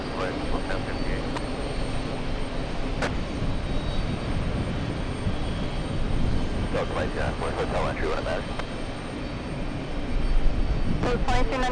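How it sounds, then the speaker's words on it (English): A Delta airliner, inbound from San Francisco, approaches to land at JFK airport, its engine roar a steady, broad rumble sustained throughout, with faint radio chatter and occasional clicks layered over the drone. "Delta 383 flying in from San Francisco"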